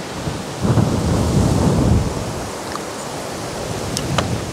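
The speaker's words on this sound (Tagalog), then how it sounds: "Sobrang lakas ng hangin." Strong wind blowing outdoors after days of rain, a loud steady roaring rush that buffets close by, swells for a moment and then holds as a continuous gusty drone.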